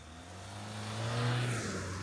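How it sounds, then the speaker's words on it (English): A 2024 Ford Everest's 4-cylinder engine revs up strongly at launch during a 0 to 100 km/h test, with a rising engine note that swells loud and steady. "it's time to launch the Ford Everest, the 4-cylinder"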